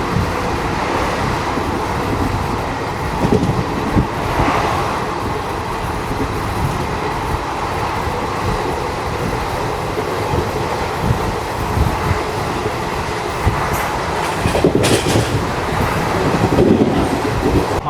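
Aboard the 22136 Renigunta–Mysuru weekly superfast express running at speed, a loud continuous rail rumble carries steady clickety-clack of wheels and a brief squeal of wheels late on.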